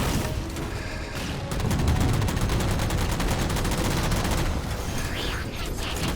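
Rapid automatic gunfire in the shooter Halo 4, a loud, sustained stream of evenly spaced shots aimed at airborne jammers, continuing almost unbroken with heavy impacts and booms mixed in.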